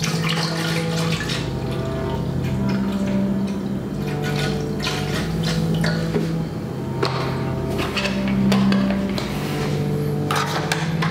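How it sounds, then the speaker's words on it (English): Coconut milk pouring for a Miami Vice popsicle, a continuous close liquid stream with a steady gurgling hum for about eleven seconds, no talk. "Then gonna add some coconut milk."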